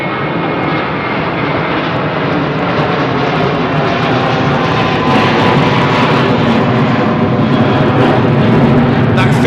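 British Airways airliner on its takeoff roll at Heathrow, bound for Krakow, produces a loud, continuous engine roar that swells slightly toward the end, with no talk over it.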